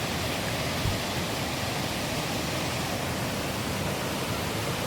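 Roadside waterfall on the Kollur ghat road during a monsoon ride, a steady, dense rush of falling water filling the scene at moderate loudness, with no voices.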